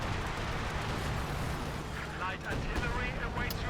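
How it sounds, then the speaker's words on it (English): Artillery shells pounding a contested centre point in Company of Heroes 2, a dense, rumbling barrage of distant blasts and crackling impacts rolling on continuously beneath faint voices. "They're just bombing the hell out of center."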